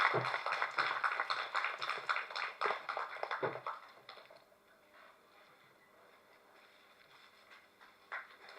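Press meet attendees give applause for a music director, brisk close hand claps for about four seconds that then die away into quiet room tone, with one last stray clap.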